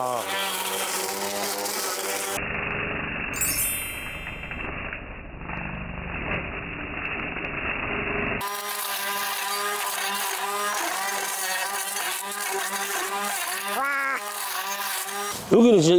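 A Greenworks cordless string trimmer cuts through tough, thick grass with a continuous high-pitched motor whine that wavers and dips as the line hits the stems, close and loud throughout.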